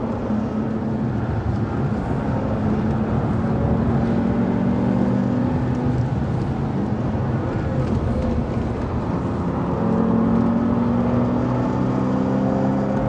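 Bentley Continental Supersports lapping the Nürburgring, a continuous loud engine drone with rising and falling pitch as the car brakes and accelerates, heard from inside the cabin with no talk.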